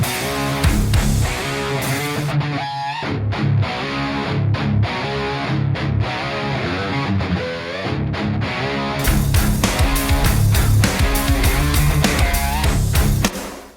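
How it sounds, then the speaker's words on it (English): Three distorted electric rhythm guitars through a simulated Marshall JCM800 amp with cabinet impulse responses, panned left, center and right, playing loud chugging riffs with palm-muted stops and sustained chords. "So there's 3 rhythm guitars, left, center and right"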